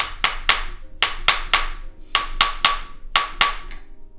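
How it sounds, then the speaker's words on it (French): Repeated hammer blows with a rawhide mallet, struck in quick pairs of sharp, ringing impacts about every second, close and loud with no talk, during hand work on a 1920s-style three-ring trianon piece. "au début je commence avec un marteau de peau"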